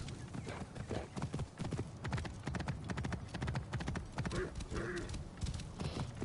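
Steady clip-clop of horse hooves in Assassin's Creed Origins, a continuous trotting rhythm with a brief whinny-like sound near the end.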